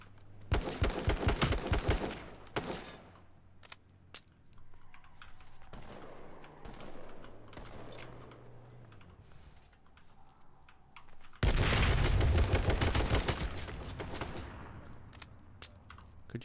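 Rapid bursts of gunfire from the battle royale game H1Z1 King of the Kill, with loud dense volleys at the start and again near the end and sparser shots between.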